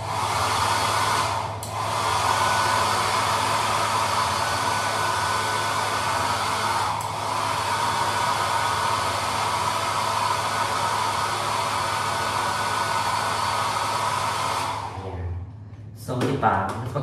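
A hair dryer blows loud and steady for about fifteen seconds with a constant whooshing roar, then cuts off, leaving brief handling noises.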